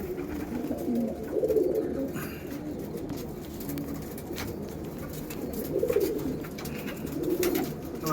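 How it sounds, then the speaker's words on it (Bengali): Racer pigeons coo in a home loft, soft low rolling coos repeating in several phrases close by, with faint background noise and no talk. "এটা রেসার পায়রা আছে।"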